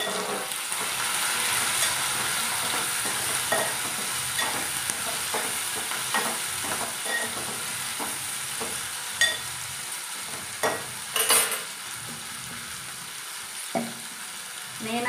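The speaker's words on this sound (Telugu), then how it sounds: "ఇదండి, తాలింపు చిటపటలాడింది." Onions, green chilli, small ginger pieces and curry leaves sizzle and crackle steadily in hot tempering oil, a close, continuous frying hiss with occasional louder pops and stirring clinks, no talking.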